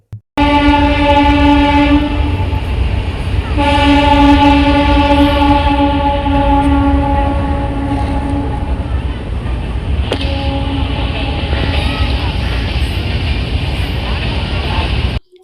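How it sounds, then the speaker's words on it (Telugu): A long train horn blares loudly and steadily for several seconds, then sounds again, over the continuous rumble of a train crossing the Godavari bridge. "ఎప్పుడూ కూడా ట్రైన్ అక్కడ వెళ్తూ ఉంటే చూడడానికి చాలామంది వేచి ఉంటూనే ఉంటారు"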